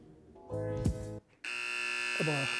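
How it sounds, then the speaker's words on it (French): A game buzzer sounds during a basketball discussion, a loud sustained electronic tone that cuts in and holds steady while people talk around it. "Pile poil buzzer."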